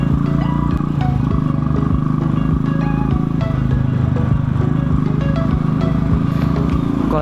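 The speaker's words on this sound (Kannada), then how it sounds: "ನಮ್ಮದು ರಾಯಲ್ ಎನ್ಫೀಲ್ಡ್ ಆಗಿರೋದ್ರಿಂದ" A Royal Enfield motorcycle rides along a Bengaluru road, its steady low thumping engine loud and close throughout, with a constant drone and some rattling traffic clatter around it.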